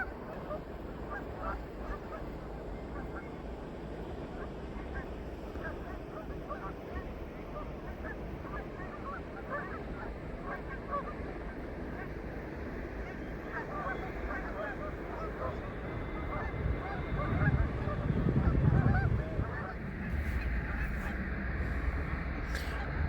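A large flock of geese gathered outdoors on water honks continuously at a distance, a faint, busy layer of overlapping calls with low rumbling background noise and a brief louder swell near the end.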